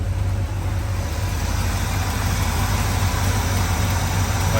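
Engine of a 1981 Chevrolet C10 pickup truck idling, a loud, steady, close low rumble that holds evenly throughout with no talking.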